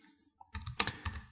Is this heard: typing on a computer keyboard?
yes